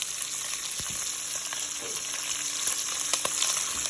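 Vegetables hit a hot pan with rendered bacon for a red bean stew, sizzling and frying steadily with a few scraping stir clicks, close and fairly loud with no talk.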